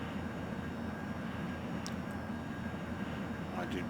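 Sukhoi SuperJet SSJ-100 jet engines at 84% throttle in Microsoft Flight Simulator make a steady, loud broadband roar with a low rumble, continuous and unchanging, plus a couple of faint high chirps.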